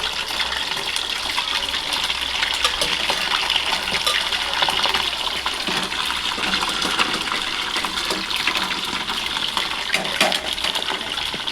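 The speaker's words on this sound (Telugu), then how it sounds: "బాయిల్ చేసుకుని చికెన్ అందులో వేసి డీప్ ఫ్రై చేసుకోవాలి." Boiled chicken pieces deep frying in about a glass and a half of hot oil for a chicken pickle, giving a steady, dense sizzle and hiss that holds at an even level throughout.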